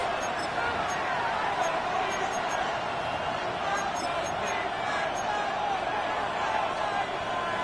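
A stadium crowd roars steadily in an EA Sports NFL football video game, a dense, continuous wash of cheering and noise heading into third down, with no clear breaks.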